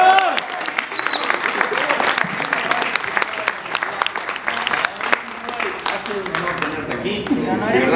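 Studio audience applause rolls through a Spanish-language TV entertainment show as a singer is sent off, loud and continuous, with voices speaking and cheering over the clapping throughout.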